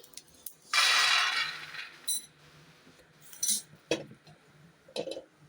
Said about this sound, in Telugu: వీటిని తీసి ఒక ప్లేట్లో కారబెట్టేసుకుందాం